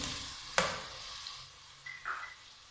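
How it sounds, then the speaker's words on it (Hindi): Tomatoes go into sizzling onion masala in a pan, with a sharp splash-like onset followed by soft, steady frying and a little stirring, close by with no talking. "अब हम इसमें टमाटर डालेंगे"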